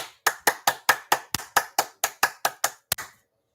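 A congregation claps for themselves at a pastoral counselling service on raising children, giving twelve sharp, evenly spaced claps in unison at a brisk rhythm, fairly close and loud, with no talking.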